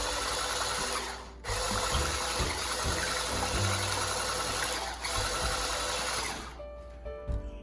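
A blender whirs steadily while mixing Trinidad ponche de creme with puncheon rum, a continuous close mechanical drone that briefly dips twice and trails off near the end.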